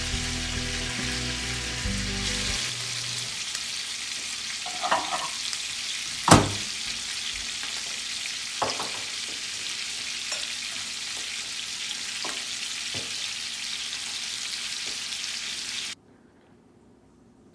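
A steak with rosemary fries in a reconditioned cast iron skillet, a steady, dense sizzle and crackle with occasional sharper pops and clicks, continuing evenly before cutting off near the end.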